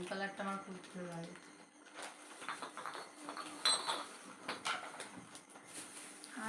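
Ceramic cups bought at a fair clink and knock against each other as they are handled, giving a series of bright, irregular chinks up close, with a voice talking over them.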